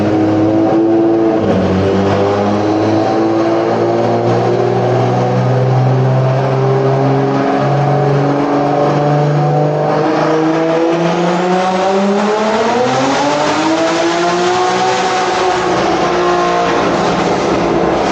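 A car with a built B58 engine and upgraded cams does a dyno pull, its engine droning loud and steady, then climbing in pitch as it revs up through a long sustained run, with no voices.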